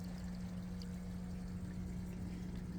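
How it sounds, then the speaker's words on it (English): Water pours and churns continuously as a pump refills an aquaponics flood-and-drain growbed, under a steady low mechanical hum, a faint, even wash of sound. "Pumping that water back in."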